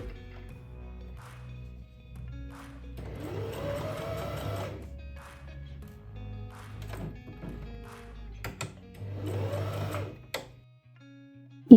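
A sewing machine stitches a seam in a leather trench coat, running in two sustained bursts of whirring motor noise with quieter handling sounds and pauses between, close by.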